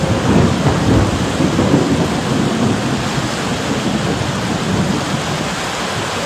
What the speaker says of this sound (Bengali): রাস্তায় প্রচুর প্রচুর বৃষ্টি বয়ে যাচ্ছে বৃষ্টির পানি বিদ্যুৎও চমকাচ্ছে প্রচুর পরিমাণে বিদ্যুৎ চমকাচ্ছে